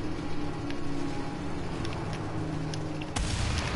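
Gunfire in the video game Mad Max, heard as a low rumbling background with a few faint pops and one sharp loud burst near the end, with no talk.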